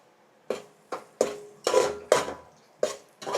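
A utensil stirring chili, coriander, garam masala and biryani masala powders into curry in a pan, heard as about eight separate scraping clanks against the metal at an irregular pace, close and fairly loud, with no voices.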